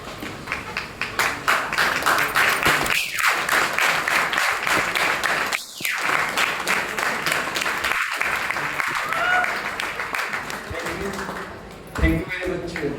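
An audience applauds to welcome a guest speaker at a talk, with dense, sustained clapping that fills the room and an amplified voice over it, fading briefly before a final burst.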